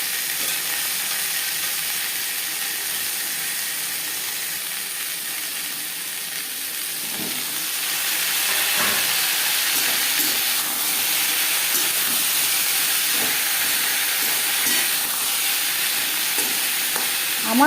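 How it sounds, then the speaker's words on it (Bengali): Pointed gourd and potato pieces fry in oil in a pan, left over from frying paneer, with a steady broadband sizzle that grows louder midway, and scattered clicks and scrapes of stirring are heard throughout. "2-3 মিনিট পটল ভেজে নেওয়ার পর দিয়ে দেবো আলু"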